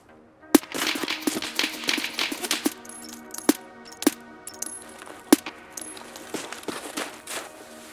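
Sharp gunshots from an unusual weapon in the video game Escape from Tarkov, several distinct loud cracks scattered over a busy background of rapid clatter and game noise, with no talking.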